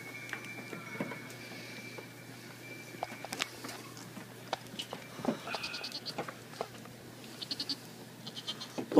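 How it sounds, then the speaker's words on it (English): Goats in a grassy yard bleat in short, scattered calls over a soft rustling background with occasional clicks, moderately close and without talk. "Goat, get your smelly ass over here."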